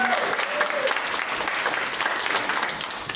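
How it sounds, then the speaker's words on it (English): A student audience at a live candidates' debate applauds, with dense, fairly loud clapping that carries on steadily and faint voices mixed in near the start. "Big round of applause."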